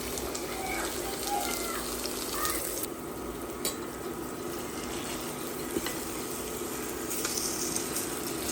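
Dry fish fries in a pan for Goan para pickle, a steady close hiss and crackle of hot oil that holds at an even level throughout, with no voices.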